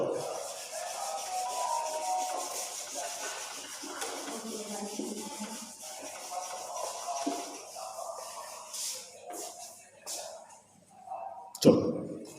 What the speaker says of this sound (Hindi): मैं ये रब कर रहा हूं